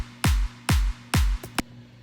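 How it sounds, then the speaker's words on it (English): A drop clap drum sample plays three times in a steady, evenly spaced pattern, each hit a punchy, loud transient with a low thump that decays, then two quick, fainter clicks close out the phrase, with no talking. "use a drop clap. Drop claps are found in pretty much every single sample pack."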